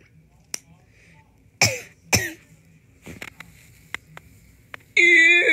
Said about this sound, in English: they're just coughing because you choked on your hair